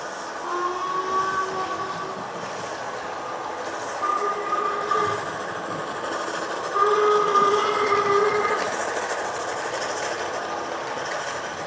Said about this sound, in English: There, I'll let it run around for a while with the steam going.